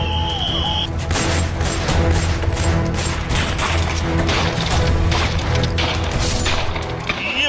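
Gunfire during an army and police encounter operation against militants in Kulgam, Kashmir: dense, rapid cracking bursts and sharp reports rattling on continuously, loud and close, with no voices over it.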